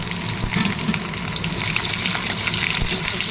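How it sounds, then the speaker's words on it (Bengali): Onions frying red in hot oil with bay leaf tempering, a steady close sizzle and crackle with faint stirring scrapes, no talking. "পেঁয়াজটা লাল করে ভাজা হয়ে গেছে"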